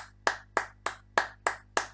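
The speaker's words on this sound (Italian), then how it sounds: "faccio tanti applausi alla mia squadra" One person claps seven times, close and crisp, at a slow, even pace.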